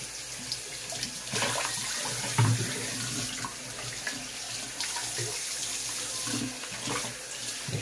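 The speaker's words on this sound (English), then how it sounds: "after you rinse your comb out, is take your bowl, lather it up in there one more time just to clean all the lather out of your bowl" Tap water runs steadily and close by while lather is rinsed out of a shaving bowl after cleaning a shaving brush, a continuous splashing wash with no talk.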